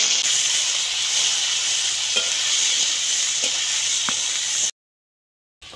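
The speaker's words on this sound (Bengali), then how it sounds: "এবার ওই তেলের মধ্যে কুঁদরিগুলো ভেজে নেব।" Ivy gourd (kundri) pieces sizzle steadily in hot oil with an even, close hiss and a few faint clicks. The frying then cuts off abruptly into a short silence before a brief sound returns at the very end.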